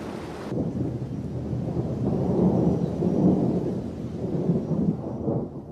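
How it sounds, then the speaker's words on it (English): Thunderstorm in South Africa's Drakensberg mountains: deep rolling thunder rumbles on and on over heavy rain, loud and sustained, with a hiss of downpour at the start. "Thunderstorms."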